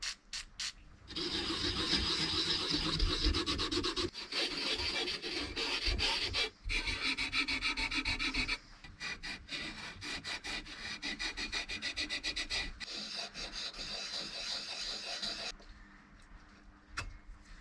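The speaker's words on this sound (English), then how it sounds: "I'm just going to give them a bit of a wipe just with a rag with WD-40" A rag with WD-40 wipes corroded metal parts and valve tubes of a vintage Columbus Model 65 valve radio during a tear-down, making close, steady rubbing and scrubbing strokes with short pauses.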